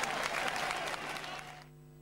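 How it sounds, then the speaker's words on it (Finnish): Loud applause from an audience at a 1999 boxing match fills the clip, steady clapping that thins and fades toward the end. "Ja aplodit Vikingin Halmeelle."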